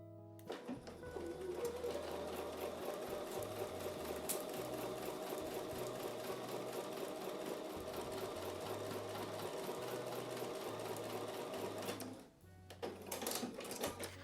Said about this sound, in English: I'm going to take those back over to the sewing machine and sew with a 1/4 inch seam